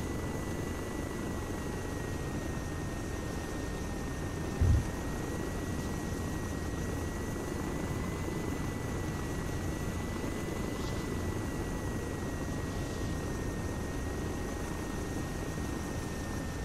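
An aircraft drones steadily through a flyby in the Arma 3 military game, a constant engine hum with a faint high tone that holds throughout, with one brief thump partway through.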